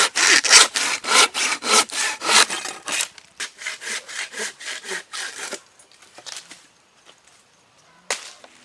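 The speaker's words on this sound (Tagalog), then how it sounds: "Ganda talaga pag bagong hasang lagari. Walang kahirap-hirap pagputol." A freshly sharpened hand saw cuts through wood at a wild bushcraft campsite: quick rhythmic close strokes that gradually slow and soften, pause, then end with one last pull.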